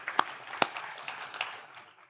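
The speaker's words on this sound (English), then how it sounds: "So let's give ourselves a round of applause" A small keynote audience claps briefly, a few sharp hand claps standing out from a thin, scattered patter that fades quickly; fairly faint and distant.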